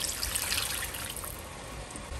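Two cups of water poured into a cooking pot in a home kitchen, a steady splashing, trickling pour at low level with no talking.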